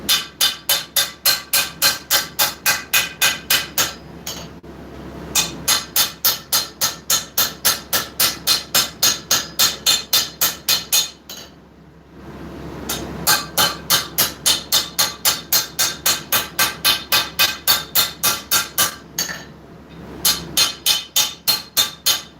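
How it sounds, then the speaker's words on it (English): Rapid, evenly spaced ringing hammer blows on steel on an anvil while forging a knife, close and loud, in long runs broken by short pauses before the steady pounding resumes. "Remember, when you're doing this, hammer in one spot, move your steel."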